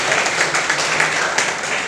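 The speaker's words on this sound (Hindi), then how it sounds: "तालियां बजती रहनी चाहिए।" Audience applause at a NEET-2022 student felicitation ceremony in Prayagraj, a steady wash of many hands clapping at moderate level for about two seconds, with no clear voices.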